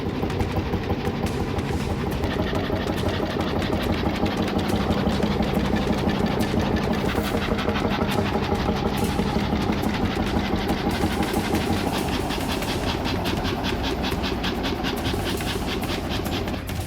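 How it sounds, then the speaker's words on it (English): A century-old vintage racing steam engine of 35 horsepower with a flywheel, running at a steady, even rhythm: loud, close, continuous chugging beats with no voices. "once it falls into rhythm, its deep, even firing sounds unmistakably real"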